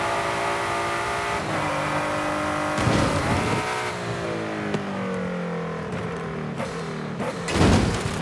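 A 2017 Ford GT in Forza Horizon 5 accelerates hard down a drag strip, its engine climbing in pitch through several gear changes with brief shift bursts, loud and close throughout.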